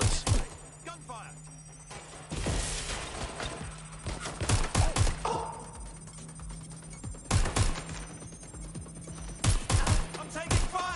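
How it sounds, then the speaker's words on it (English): Bursts of gunfire from a video game, sharp repeated shots in clusters with quieter gaps and background game ambience. "Gunfire."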